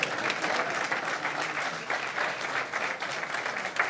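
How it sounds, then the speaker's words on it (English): Audience applause welcoming a speaker at an evening medical lecture series in Williamsburg, steady clapping with slight swells, moderately distant, with no speech over it. "You're going to clap for him"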